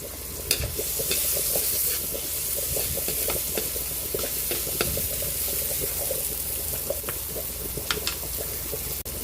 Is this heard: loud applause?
no